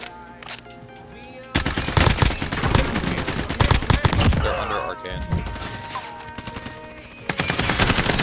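Rapid automatic gunfire bursts from a Call of Duty Rebirth Island match, loud and close, with sustained rattling volleys, brief pauses, then another burst near the end.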